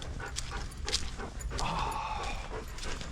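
A husky whimpers and gives a few short yips nearby, fairly quiet, amid light background noise.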